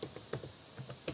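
Typing on a computer keyboard while entering button text in a web page builder: a quick, uneven run of crisp key clicks, close and fairly quiet, with no voices.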